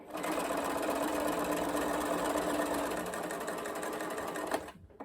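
A sewing machine stitches a DOLLY school dress kit, running at a steady, close continuous whirr before cutting off just before the end.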